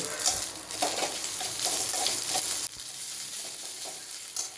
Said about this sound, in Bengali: এবার তার মধ্যে দিয়ে দিচ্ছে একটু আদা রসুন বাটা এবার সেটিকেও ভালো মতো করে মিক্স করে নিচ্ছে